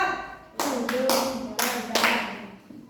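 Sixth-grade children in a primary school classroom clap a rhythm pattern together, several sharp group claps in quick bursts, with voices heard between them.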